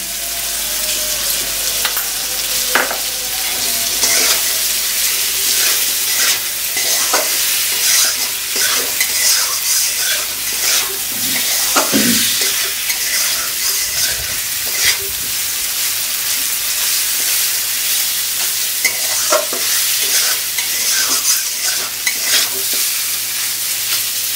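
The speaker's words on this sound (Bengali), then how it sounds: "এবার আমি দিয়ে দেব মশলা। এবার চলে যাচ্ছে ঘরোয়া বাটা মশলা।" Homemade ground spice paste frying with boiled potatoes for a village-style rohu fish kalia, giving a loud, steady sizzle with repeated scraping and stirring strokes throughout and no talk.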